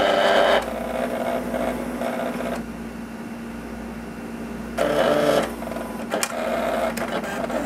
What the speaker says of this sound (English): So the machine is now reading the registration marks.